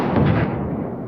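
A single loud rifle gunshot booms from The Last of Us episode, a dense, heavy blast that decays over about a second.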